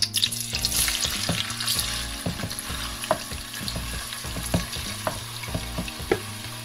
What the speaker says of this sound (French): Notre huile a chauffé, donc on va mettre notre viande.